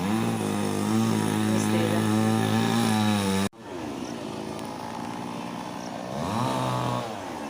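A chainsaw cuts through dried wooden logs outdoors, its engine droning loud and steady, breaking off abruptly midway, then resuming at a lower pitch and revving up again.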